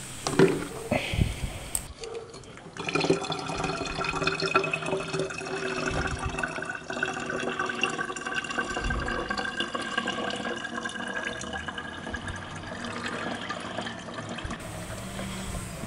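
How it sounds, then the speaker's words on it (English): Coolant draining out of the cooling system of a Suzuki SV 1000 motorcycle, a steady close trickling and splashing of liquid that runs continuously with no talking. "just be patient until all the liquid is gonna uh, be drained off and all this uh, cooling system will be empty"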